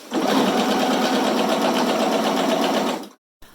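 A sewing machine stitches a pillowcase seam and finishes with a backstitch, giving about three seconds of steady, close, rapid mechanical whirring that then stops abruptly.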